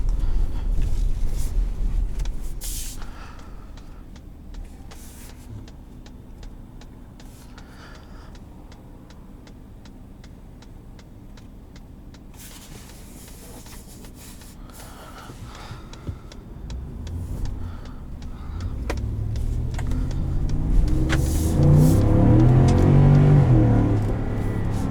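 A 2020 Ford F-150 Lariat's 5.0 V8 builds from a steady low cruise hum into a louder, rising acceleration roar near the end, heard from inside the cab at night with faint ticking in the background.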